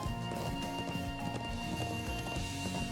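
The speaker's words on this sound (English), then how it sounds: "Horses!" Horse hooves gallop in the JRPG Trails of Cold Steel, a quick, steady clip-clop rhythm running under a continuous bed of game music.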